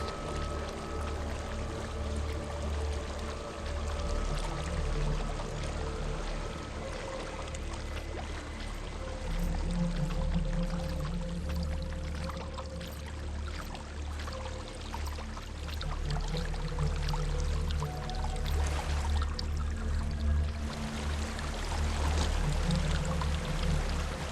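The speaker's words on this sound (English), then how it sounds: "There's a waterfall." A waterfall in the video game Hellblade: Senua's Sacrifice gives a steady, soft rushing and pouring of water that runs evenly throughout, low and continuous with no voices.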